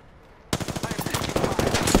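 Automatic weapon fire in the Apex Legends battle royale game, a sudden loud burst of rapid shots starting after a brief quiet lead-in and continuing to the end.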